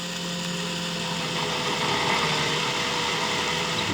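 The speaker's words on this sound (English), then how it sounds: "Go in a nice slow drilling motion" A power drill bores slowly through a wall stud bay near PEX piping, giving a steady, close, unbroken whirring grind that holds for about four seconds with no talk over it.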